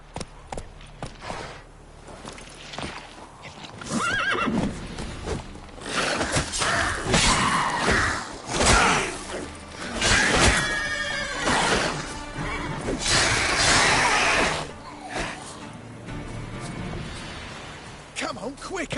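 A horse in The Witcher 3 whinnies loudly several times amid hoofbeats and game effects, with a voice talking around it.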